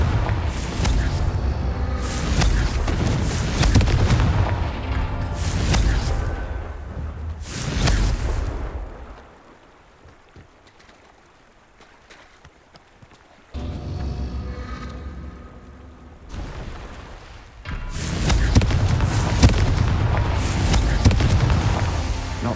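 Confringo blasting spell from Hogwarts Legacy detonates in repeated loud booming explosions, several heavy blasts separated by a quiet stretch, with a final sustained roaring burst of impacts.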